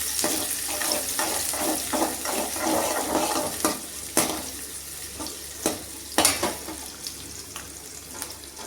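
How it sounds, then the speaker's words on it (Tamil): Onions sizzle and hiss in a hot pan while a utensil scrapes and stirs, with occasional sharper clinks over the steady frying. "அதையும் போட்டு நல்லா வணக்கி விட்டுருவேன்."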